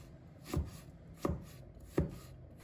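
Three sharp knife chops through fresh ginger on a cutting board, evenly spaced about two-thirds of a second apart, close and clear with no talking, while preparing a pork liver dish.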